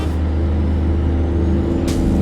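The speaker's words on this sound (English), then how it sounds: "I just love the sound of this truck" A heavy truck engine in American Truck Simulator on a winter haul through Texas drones at steady cruise, a loud, continuous low rumble with constant harmonic tones and a faint hiss rising near the end.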